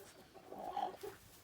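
A laying hen clucks softly a few times nearby, low murmuring clucks in a quiet setting.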